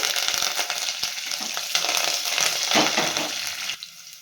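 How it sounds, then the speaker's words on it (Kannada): A whole peeled head of garlic frying in oil, with curry leaves added, for a simple bachelor-style chitranna, crackles and sizzles steadily and fairly loudly, with stirring scrapes, before cutting off near the end. "ಒಂದು ಇಡಿ ಬೆಳ್ಳುಳ್ಳಿಯನ್ನು ಹಾಕ್ಕೊಳ್ತಾ ಇದ್ದೀನಿ ಸಿಪ್ಪೆ ಸುಲಿದು ಇಟ್ಕೊಂಡಿದ್ದೀನಿ ಇದು ಕೂಡ ನೀಟಾಗಿ ಫ್ರೈ ಆಗಬೇಕು"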